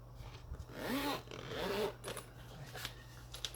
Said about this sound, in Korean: 지퍼가 성능이 생각보다 괜찮아요.